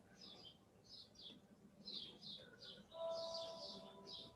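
Small birds chirp outdoors in repeated short bursts of high tweets, moderately near, with a steadier tone entering near the end and faint background noise beneath.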